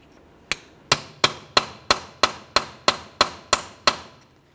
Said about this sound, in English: Continue on with a hammer and punch directly in the center of the axle.